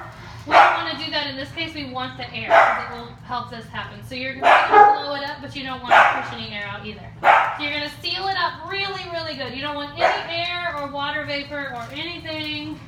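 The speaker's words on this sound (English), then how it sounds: "Sorry for my dogs barking." Household dogs barking repeatedly and loudly in an indoor room, a steady run of sharp barks and yips through the whole stretch, with a person talking over them.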